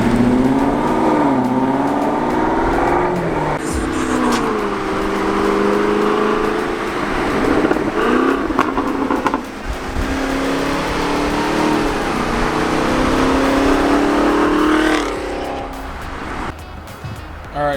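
A new 2023 Chevrolet Camaro ZL1 V8 sports car drives and revs up close, its engine note rising and falling through several pulls in a steady, loud roar.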